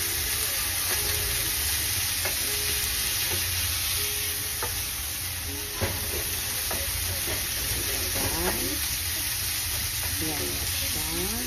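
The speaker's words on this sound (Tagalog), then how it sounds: "Ihalo na natin yung spam." Spam fries in a pan as it is stirred, giving a dense, constant close sizzle with scattered scraping taps of the utensil against the pan and no voice over the hiss.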